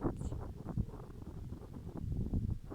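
Wind blows steadily outdoors as a low, rumbling buffet across the microphone, with gusts swelling and easing throughout and no voices.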